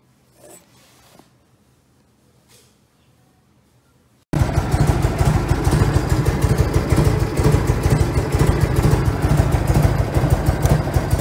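A Harley-Davidson Shovelhead engine idles in a loud, close, choppy three-beat rhythm. The engine catches suddenly after a few seconds of near silence with faint rustling.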